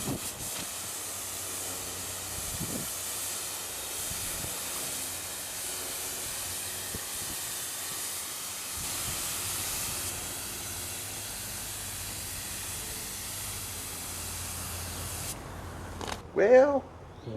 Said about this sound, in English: It looks like it's spraying very nicely, atomizing nicely on that cheap Harbor Freight gun.